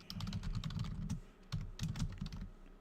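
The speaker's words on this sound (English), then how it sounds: "I'm still typing 1905 automatically" Typing on a computer keyboard, a quick run of soft clicking keystrokes in irregular bursts with a short pause midway, close and fairly quiet with no talk.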